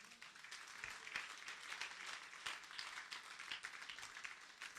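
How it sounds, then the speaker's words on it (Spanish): A church congregation applauds, steady and faint with a dense, even patter of many hands and no one speaking over it. "Denle un aplauso al Señor"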